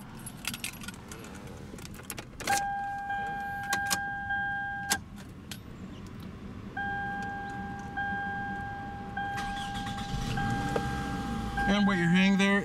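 A 2.4-liter four-cylinder engine in a 2006 Toyota Camry LE idles with a steady low hum, partly masked by jangling keys and repeated electronic chime tones from the car's cabin.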